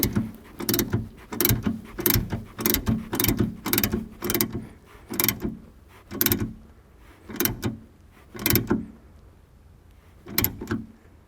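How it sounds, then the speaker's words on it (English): Ratchet mechanism on an Isuzu D-MAX behind-the-seat battery system, a series of distinct mechanical clicking ratchet strokes in an uneven rhythm, about a dozen close, moderately loud bursts separated by short pauses. "it's just got the little ratchet mechanism here, same as any ratchet really"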